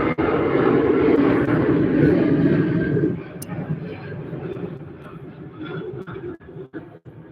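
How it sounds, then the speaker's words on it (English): A Boeing 737 airliner taxiing at Manchester Airport, heard as a loud, steady jet engine roar that eases after a few seconds into a lower rumble, with a few sharp knocks near the end. "That's a 737 that's making its way to the end."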